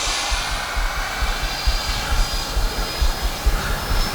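A Freewing F-86 80mm electric ducted-fan RC jet flying at full speed, a loud continuous high-pitched whine and roar with slight pulsing and a faint shifting tone as it passes at a distance.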